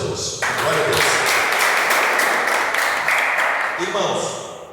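A church congregation bursts into dense, sustained applause after a brief quiet start, clapping steadily for about four seconds before tapering off.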